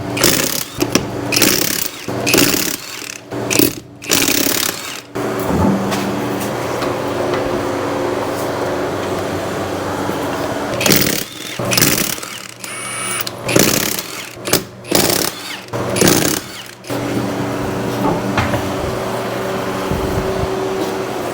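An impact wrench removes a wheel from a 2002-2007 Jeep Liberty: loud, close bursts of rattling hammering come in several spurts, with pauses of steady mechanical whirring between them.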